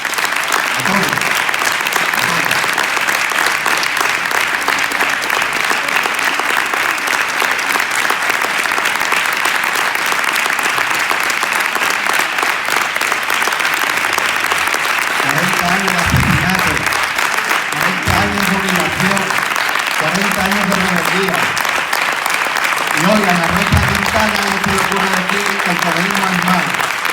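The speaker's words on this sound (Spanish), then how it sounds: "Pido un fuerte aplauso" Sustained applause from a crowd at a political rally in Conil, a loud, dense wash of clapping lasting the whole stretch, with a voice speaking over it in the second half.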